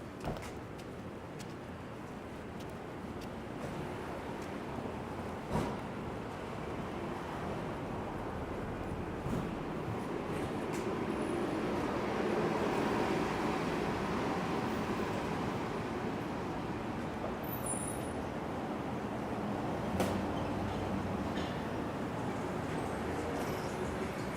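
A subway train rumbles steadily near the Jackson Heights–Roosevelt Avenue station in Queens, a continuous low roar swelling midway with faint metallic squeals and clicks above it, no voices.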